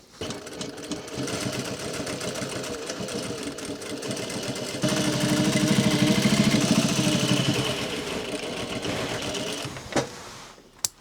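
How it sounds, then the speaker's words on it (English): A sewing machine top stitches a pair of dungarees, a steady mechanical whir running nearly eleven seconds, growing louder and faster midway before easing, then stopping with a couple of sharp clicks at the end. "And now we're going to top stitch"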